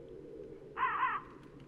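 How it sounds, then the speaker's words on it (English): A single crow in a video game gives one short, harsh caw, fairly distinct over a quiet low background hum. "Don't mind me, murderous crows."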